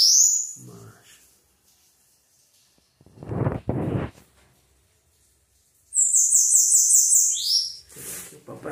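Bananaquits calling in a breeding cage, with short high chirps at the start and a bright, rapid twittering burst near the end, close by, separated by a brief spoken phrase and quiet gaps.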